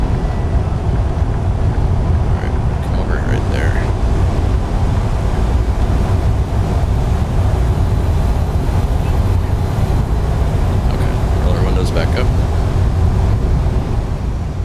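An Ironwerx WS4900 truck pulling an oilfield float trailer in American Truck Simulator, its engine a steady, low, broad rumble that holds constant and fairly loud throughout, with no clear change in revs.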